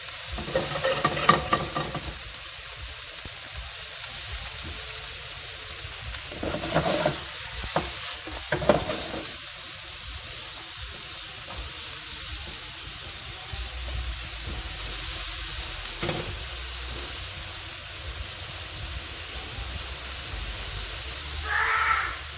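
Green onion and vegetables stir-frying in a pan, a continuous sizzle and hiss with scattered scraping and stirring bursts, steady and close throughout.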